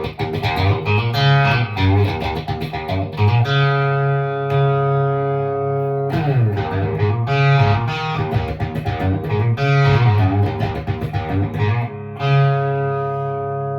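FU-Tone Pro electric guitar moving between clean and distorted tones: loud ringing chords and riffs with sustained notes and effects, played in repeated phrases with brief gaps.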